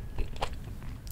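Brief close chewing of a fried enoki mushroom pancake, soft crunchy bites and mastication sounds with no speech.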